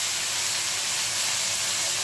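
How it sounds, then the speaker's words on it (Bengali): Parshe fish fry in a little hot oil in a wok, giving a continuous broadband hiss and sizzle that stays even and close throughout, with no talking. "চলো এক এক মাছটা ভেজে নিই"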